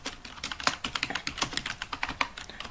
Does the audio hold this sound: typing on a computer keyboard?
yes